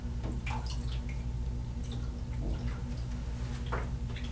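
Rinse water drains from a roller-style film processor tub in a darkroom, a steady close trickle with scattered drips and gurgles under a low constant hum, no voices.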